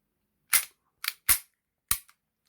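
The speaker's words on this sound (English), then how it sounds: "remove the mag. Ensure that there's no round in the chamber." A vintage 1950s Ruger MK1 .22LR pistol being cleared, with four sharp metallic clacks of the magazine and bolt being worked in close succession, close and crisp against silence.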